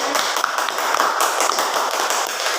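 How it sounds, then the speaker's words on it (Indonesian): Classroom applause for a student, a short burst of many hands clapping together, close and fairly loud, with a few voices faintly mixed in. "Tepuk tangan dulu buat Risna."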